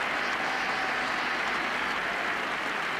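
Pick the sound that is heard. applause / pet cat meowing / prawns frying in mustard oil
applause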